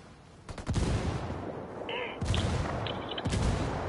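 A frag grenade blows up in Ghost War, one of several loud bursts amid rattling gunfire, with sharp cracking blasts over a dense battle din and a faint voice under the noise.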